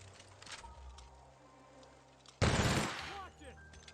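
An assault rifle in The Outer Worlds fires a single loud, fast burst of about half a second after quiet game ambience, followed by faint echoes and the start of another sound at the very end.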